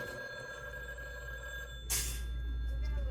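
A Halloween decoration telephone rings with a steady electronic tone that jumps to a louder, brighter burst partway through, heard up close indoors.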